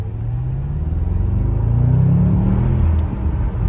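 A 550 hp Bentley GTC convertible accelerates hard, its engine rising in a loud, close, continuous rumbling drone that climbs in pitch before settling.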